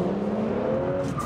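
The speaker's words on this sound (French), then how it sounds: "dès qu'on reprend l'accélérateur avec ce moteur V6 turbo, ça drift et ça survire sans problème." A 340-horsepower twin-turbo V6 car accelerating on a race track, a loud close engine drone with a rising whine and no talk.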